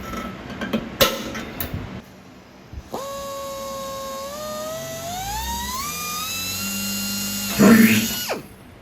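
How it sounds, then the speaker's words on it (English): Clicks and handling noises, then a high-pitched power drill whirs steadily, its pitch climbing in steps as it bores holes through the metal vertical stabilizer of an RV-14 airplane, ending with a grinding burst. "the next step after that was to drill out 2 additional holes"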